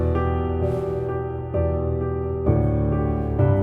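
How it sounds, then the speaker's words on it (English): Piano plays a simple melody over sustained pads and bass in a sad pop arrangement, notes entering in a slow steady rhythm, full and close in the mix. "Then we got the piano."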